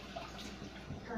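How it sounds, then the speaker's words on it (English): Tap water runs steadily while hands are washed at a sink, a continuous near splash lasting about a second. "Step away, wash my hands for a minute."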